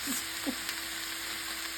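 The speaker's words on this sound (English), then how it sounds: "Okay, we're back to sizzling again." Ground beef and potatoes sizzle softly in a hot skillet with a steady crackling hiss, while a couple of faint scraping stirs sound near the start.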